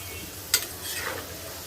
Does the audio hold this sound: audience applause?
no